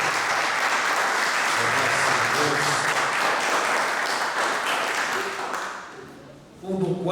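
Church congregation at a Portuguese-language service giving sustained applause, a broad steady roar of many hands that fades toward the end before a voice and music-like tones return.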